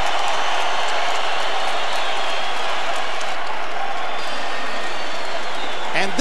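Large boxing crowd at Staples Center in Los Angeles applauding and cheering, a loud dense continuous roar of clapping that fills the whole stretch, with a commentator speaking over it.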